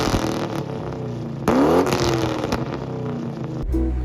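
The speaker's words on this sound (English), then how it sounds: "we'll let you hold on to that classic V8 sound." A 1999–2004 Ford Mustang V8 engine revs close by, a sharp throttle blip rising and falling over a steady rumbling idle, with no voices.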